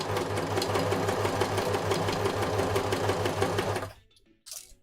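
A home sewing machine running steadily at full speed, a loud continuous motor whir with a rapid even stitching pulse, then stopping abruptly with a brief faint rattle afterward.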